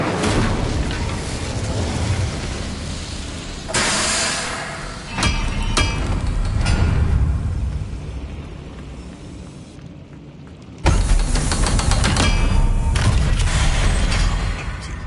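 An Incendio fire spell cast in a Harry Potter video game: loud, dense booming and crackling bursts that swell, drop away briefly, then surge back even louder for the rest of the stretch.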